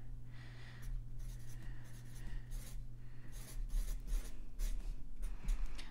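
Pen or pencil writing on paper while working a fluid transport physics problem, scratchy strokes in short bursts over a steady low hum, fairly quiet and close.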